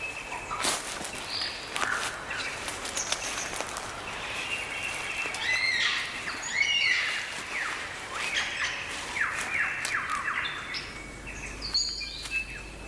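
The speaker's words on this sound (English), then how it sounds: "The superb lyrebird of Southern Australia." A recorded superb lyrebird song from Southern Australia, played back inside Subnautica Below Zero, gives a run of varied whistles, chirps and whip-like calls, moderately loud and continuous over a faint background.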